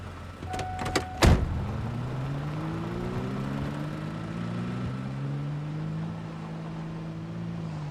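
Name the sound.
truck engine in a video game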